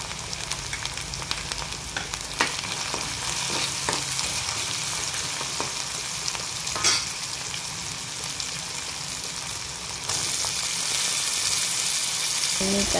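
A soya chunk curry with turmeric is stirred in a pan over a constant frying sizzle, with scattered scraping strokes of the spoon against the pan; there is no talking.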